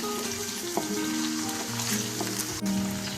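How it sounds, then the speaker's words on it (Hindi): Steady sizzling of chicken frying in a pan, close and continuous, with a few faint clinks of stirring. "तो इसको भी अच्छे से फ्राई कर लेते हैं।"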